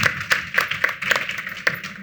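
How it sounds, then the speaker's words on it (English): A small audience at a regional design talk claps for a speaker in a short burst of scattered, close handclaps. "If I could please have a round of applause for Mariana."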